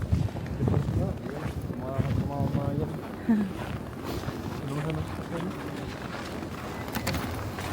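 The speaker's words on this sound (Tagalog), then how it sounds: "sa sobrang lakas ng hangin" Strong wind buffets the microphone in loud gusts outdoors in Canada, with people talking underneath and faint birds.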